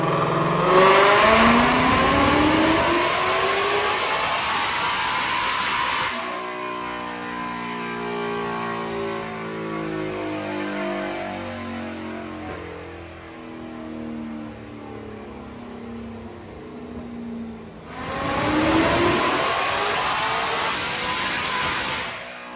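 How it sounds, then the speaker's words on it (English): A 2019 Mustang GT automatic with a Whipple supercharger screams through a dyno pull, loud revving bursts at the start and end framing a quieter stretch of lower engine tone. "Check out this dyno pull."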